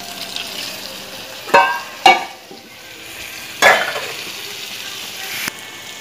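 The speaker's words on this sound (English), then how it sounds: "You just need to give a nice fry" Tofu pan-searing in a frying pan with a steady low sizzle, broken by three or four sharp scraping stirs of a utensil against the pan, close and fairly loud.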